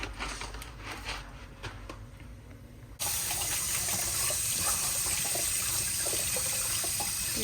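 Kitchen tap switched on over a sink to wash vegetables, water gushing in a loud steady stream after a few seconds of quiet handling clatter.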